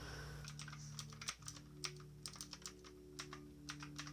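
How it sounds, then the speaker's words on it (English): Clicky, clacking keystrokes on a computer keyboard come in an irregular, moderately quiet run of taps over a steady low hum, with no voices. "I still have to deal with the clicky clacking noises, and people still have to hear it"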